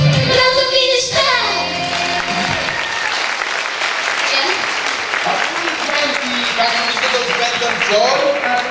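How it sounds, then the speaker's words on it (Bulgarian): Sustained applause from an audience at a kindergarten anniversary concert, greeting a child dancer, with steady clapping over a music tail that fades in the first couple of seconds; loud and continuous throughout. "Още веднъж аплодисменти!"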